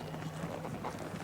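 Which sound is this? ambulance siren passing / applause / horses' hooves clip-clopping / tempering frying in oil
horses' hooves clip-clopping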